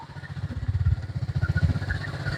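A motorcycle pushes through deep water that reaches halfway up the bike, its engine note rumbling low and pulsing steadily, close and continuous with no talk.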